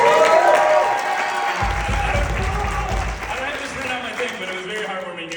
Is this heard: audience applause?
yes